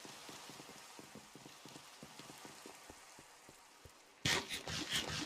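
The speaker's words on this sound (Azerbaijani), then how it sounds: "Mənim zəhrəm gedir yağış tavalardan" Rain falls in a Minecraft 1.21.8 survival world, a faint steady patter with light rhythmic tapping, until a sudden louder burst of noise near the end.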